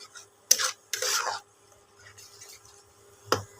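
A paste of mashed cabbage leaves is stirred and fried in a pan, heard as a few short, scraping strokes of a spatula against the pan, separated by quiet pauses.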